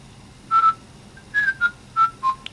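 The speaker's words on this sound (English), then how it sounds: "then you get a whistle" A synthesized whistle sound from a Nintendo DSi sound editor plays a short melodic run of five or six bright pure-toned notes, clear and close, with a tiny blip at the end.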